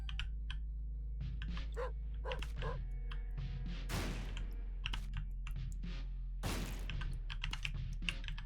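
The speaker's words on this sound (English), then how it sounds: "Is that a crawl space bark again?" A dog barks repeatedly from a crawl space in The Binding of Isaac: Repentance, mixed in with game sounds and dense keyboard and mouse clicking throughout.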